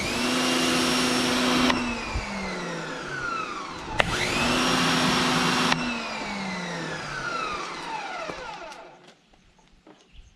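A Portland pressure washer from Harbor Freight sprays a straight stream of water, a loud steady hiss with the motor whine rising and falling as the trigger cuts off and restarts, with no talking.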